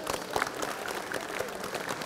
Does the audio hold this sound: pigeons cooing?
no